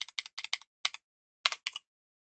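Code being typed on a computer keyboard, a few quick bursts of crisp close key clicks separated by short pauses, with no talking.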